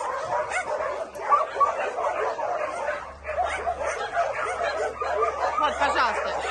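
Many dogs bark, yip and whimper from enclosures at an animal shelter, a busy overlapping chorus of close and farther voices, with a person speaking faintly beneath it.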